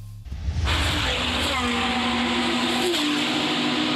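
A Porsche Cayman Cup race car at Spa-Francorchamps roars up close, its engine note climbing and holding a loud, sustained high-revving drone, with faint voices in the background.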